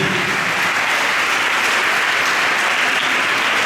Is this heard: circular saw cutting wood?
no